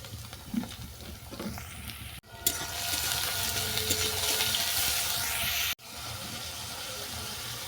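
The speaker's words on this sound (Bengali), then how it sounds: "আবার আমি কড়াইতে সাদা তেল দিয়ে সব সবজিগুলোকে ভেজে নেব।" Mixed vegetables fry in white oil in a wok with a bright, steady sizzle up close; it begins quieter, swells after a sharp cut, and drops briefly again near the end.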